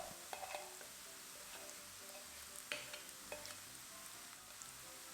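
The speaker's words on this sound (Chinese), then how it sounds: "下入搅拌好的米饭，进行翻炒" Rice stirred with spring onions is stir-fried in a pan, giving soft continuous frying hiss with occasional spatula scrapes and clinks, fairly quiet and close.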